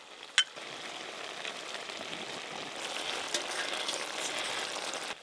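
Bottle gourd greens with small fish simmer down in a pan, giving a soft, steady sizzle and bubbling throughout, with one sharp utensil click near the start.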